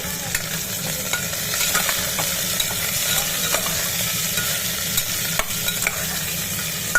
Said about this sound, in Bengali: সব আনাজগুলো একসাথে তুলে দিলাম আনাজগুলো খুব একটা বেশি ভাজবো না আমার জন্য তুলে দিয়েছি সামান্য একটু নেড়ে নেবো